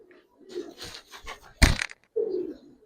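Giribaz and coloured pigeons coo in short, low, throaty phrases close by, broken by a sharp crunching knock in the middle and a few faint rustles.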